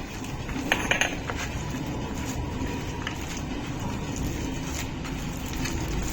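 Onions, garlic and coconut being stirred together in a pan in a home kitchen during a cooking class, with a spoon scraping and clinking against the metal over a steady background hiss, continuous for several seconds.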